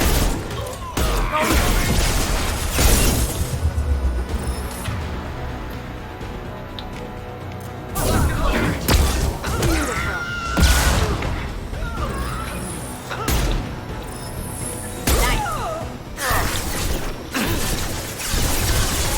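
A flashbang grenade detonates in Mass Effect 2 amid dense, loud game action, with sharp bursts and crashes recurring through the mix over mechanical clatter.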